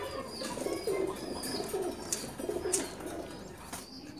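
Pigeons, including Red Bombai and Jharna Shatting breeds, coo at a pigeon farm in soft, repeated low throaty calls, with faint chirps and rustling in the background and no one talking.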